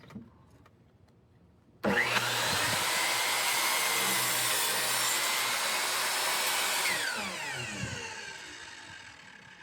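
A VEVOR 10-inch compound miter saw with its stock blade whines up loudly and cuts through a 6-inch wood fence picket in one sustained pass, then the motor spins down with a falling whine.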